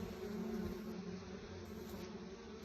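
Bees hum steadily for a few seconds as they go into their hive, a low continuous drone of many insects nearby, with no talking.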